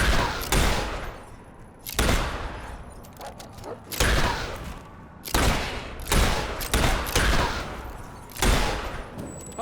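Gunshots in the PC video game Fable 3 come as loud, booming blasts roughly every one and a half to two seconds, each tailing off into a rumbling decay, with no talk over them.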